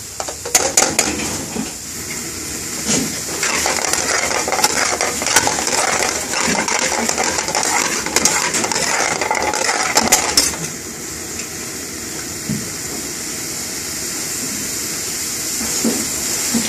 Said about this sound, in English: Stirring it well in.